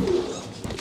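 Racing pigeons in a UK breeding loft give low, soft cooing that carries steadily and close through the short stretch, with no voices.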